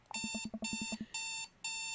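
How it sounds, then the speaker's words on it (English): Digital alarm clock in the video game Dream Daddy rings with rapid electronic beeps, then repeated longer shrill bursts with short gaps, clear and close with no voices. "I jolt awake at the sound of my alarm"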